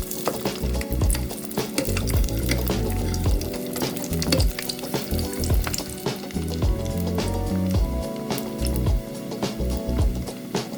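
Chunks of lechon kawali pork fry in hot oil with a loud, continuous crackling sizzle, sharp pops and spatters throughout, close and without talk.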